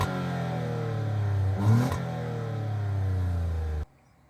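A Ford Figo 1.5 three-cylinder engine starts and runs with a throaty, slightly uneven idle, revs up briefly and settles back, then cuts off abruptly into near silence.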